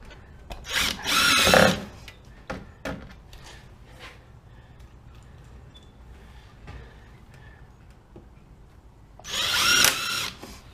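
A power drill drives screws into a Mudbuster fender flare on a 2018 RZR S4 900, two loud whirring bursts near the start and end with quieter handling clicks between.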